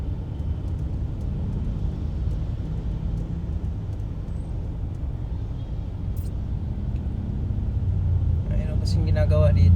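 Low, steady road traffic rumble in a slow roadside traffic jam near roadworks, with engines droning continuously and swelling louder toward the end as a vehicle passes close.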